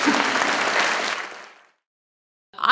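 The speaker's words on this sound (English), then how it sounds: "Can we have a round of applause?" Brief audience applause at a talk on housing and zoning, a dense burst of clapping that fades out within about a second and a half, followed by silence and a voice starting to speak.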